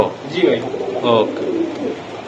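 Soft, throaty cooing of Pakistani high-flying teddy pigeons in short repeated phrases, fairly close, over a low background murmur.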